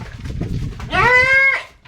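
A native goat gives a single clear bleat, loud and close, rising after some low background rumble and ending abruptly.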